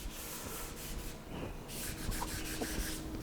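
Fine 600-grit sandpaper rubs over a guitar body being prepared for clear coat, a close continuous scratchy hiss with uneven back-and-forth strokes.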